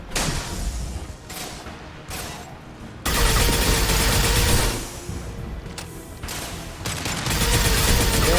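Heavy gunfire rattles through a Mass Effect 2 firefight, dense overlapping bursts of automatic shots and impacts continuing for several seconds with brief lulls between volleys.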